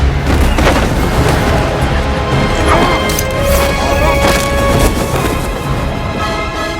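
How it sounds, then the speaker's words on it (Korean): Movie explosion as a transport plane's wing engine blows up and the fuselage splits in half, a loud, dense booming crash with heavy low rumble and debris smashing throughout, sustained at high intensity. "결국 한쪽 날개 엔진이 폭발하고 수송기 둥치가 반으로 쪼개지게 됩니다."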